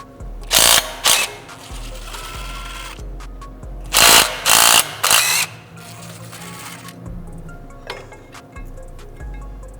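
A ratchet breaks loose flywheel bolts on a Toyota 86 / Subaru BRZ during a clutch job, giving several loud bursts of rapid clicking in separate sets over a low background hum.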